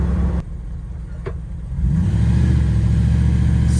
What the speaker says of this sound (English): It's got to rev up to like 1800 before it takes off.